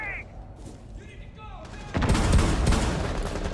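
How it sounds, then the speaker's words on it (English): Gunfire in Rainbow Six Siege bursts in after quieter game sounds and a brief voice, a loud sustained rattle of shots filling the second half. "Oh, yep, I'm getting shot at now."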